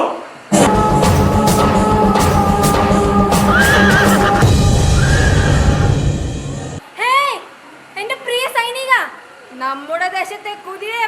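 A horse neigh sound effect marks a knight's move in a school chess game, a loud whinny rising and falling in several bursts after a steady noisy stretch.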